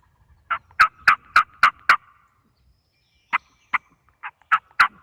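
A wild turkey gobbles in two bursts of sharp, rapid notes separated by a short silence, the first burst steady and the second more scattered, heard fairly clearly with no talking.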